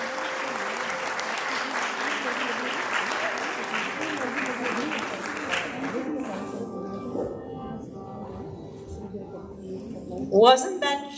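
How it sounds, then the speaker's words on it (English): An audience applauds Rishika and the accompanying orchestra at her arangetram dance recital, strong clapping for about six seconds that thins and fades while a voice begins speaking. "Let's give another round of applause to Rishika and to our fantastic orchestra right here"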